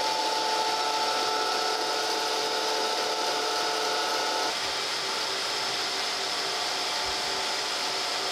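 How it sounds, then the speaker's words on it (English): A grinder works across the top of an autocollimator mirror sled for inverted V-ways, giving a continuous, close, steady abrasive hiss and whine whose tone shifts partway through. "Let's touch off here, and we're going to grind the top first."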